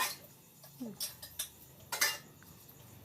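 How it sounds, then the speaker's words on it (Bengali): Utensils are washed and scrubbed in a home kitchen, with faint, scattered clinks and knocks of metal dishes at irregular moments against quiet background noise. "আমি বাসনগুলো মেজে নিচ্ছি"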